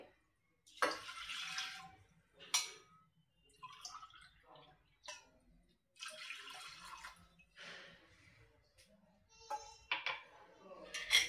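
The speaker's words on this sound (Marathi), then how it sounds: "गरजेनुसार आपल्याला पाणी घालायचं आहे." Water pours in a few splashing bursts into a metal pressure cooker pot, with gurgles and drips between pours and a voice speaking softly under it.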